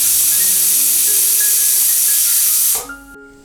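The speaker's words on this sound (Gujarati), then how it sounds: "અને હવે પ્રેશર કુકરમાં 2 વિસલ થઈ ગઈ છે, તો તેની અંદર આ જે પ્રેશર છે તેને આપણે આ રીતના નીકાળી દેશું." A pressure cooker holding undhiyu vents its steam in a loud, continuous hiss with a faint whistling tone. The hiss cuts off near the end, leaving a few quiet metallic clinks.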